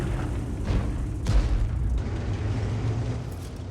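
Tank shell impact in a tank battle game, with a low booming blast and a second dull thud shortly after, set against a rumbling background.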